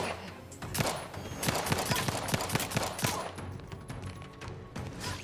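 Pistol gunfire in a shooter video game: a fast series of sharp, loud shots comes in clusters, mixed with other distant gunfire and game sounds.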